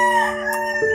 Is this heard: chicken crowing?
yes